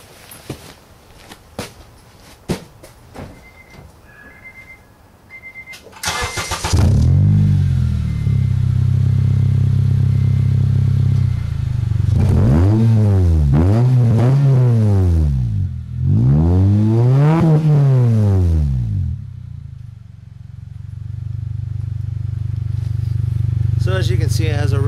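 A Honda Element, upgraded from stock to a 2.5-inch custom exhaust with a Megan Racing N1 GT muffler, silencer removed. After a few clicks it cranks and starts loud and close, settles into a deep idle, takes three sharp revs, then idles again.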